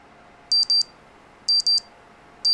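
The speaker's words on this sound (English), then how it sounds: "my alarm clock wakes me up." A video game alarm clock rings in clear, bright double beeps, two quick pulses repeated about once a second, with a third pair just starting, over a faint quiet background and no voices.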